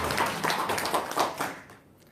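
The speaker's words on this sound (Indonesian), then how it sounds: "Tepuk tangan dulu dong." An audience clapping hands in a quick, roughly even rhythm for about a second and a half before fading away to quiet.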